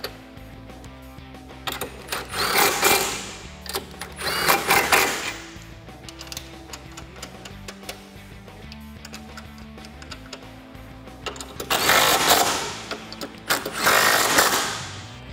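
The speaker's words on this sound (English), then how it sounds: "tighten them down with a 15 socket." Ratchet with a 15mm socket tightening the nuts on a cold air intake install on a 2018-2019 Mustang GT, heard as several bursts of quick clicking rasps, the longest near the start and near the end.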